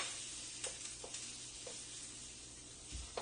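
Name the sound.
garlic and ginger frying with onions in a pan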